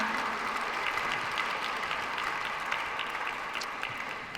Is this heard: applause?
yes